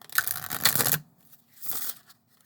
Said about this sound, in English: Let's give these a shuffle and see how that gloss finish is shuffling.